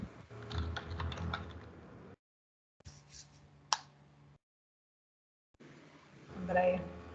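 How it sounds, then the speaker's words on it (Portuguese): Keyboard typing comes in short bursts of clicking between stretches of silence, faint and close, mixed with talk in an online study group session. "estou prestando atenção no que você está digitando, Aline."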